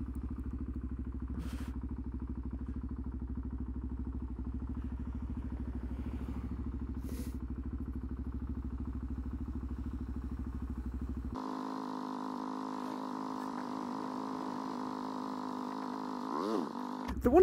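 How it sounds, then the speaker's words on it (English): A DRZ motorcycle coasts downhill, its low engine drone steady for about eleven seconds before shifting to a brighter, higher-pitched whine of wind and drivetrain noise, with a closing thump. "this bike is keeping to the speed limit on its own"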